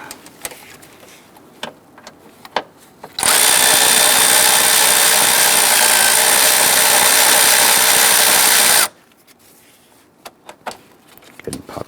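A power tool drives a swivel socket to remove a bolt on a 2011-2021 Jeep Grand Cherokee, a loud steady whir lasting about six seconds, framed by small clicks and handling noises before and after.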